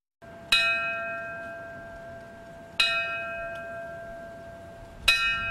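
A bell tolls three times at a 9/11 memorial ceremony on a town green, each clear ringing strike left to decay slowly before the next, heard alone at moderate distance.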